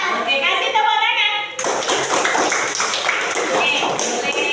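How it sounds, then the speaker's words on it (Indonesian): A group of people, likely students in a classroom, clap their hands together in a dense, steady burst that starts abruptly partway through and keeps going to the end, following a moment of children's voices. "Oke, kasih tepuk tangan."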